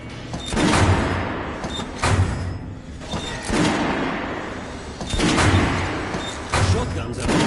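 Guns fired on a shooting range in Metro Last Light, a series of loud, close booming shots spaced about every second or two, each with a heavy ringing tail.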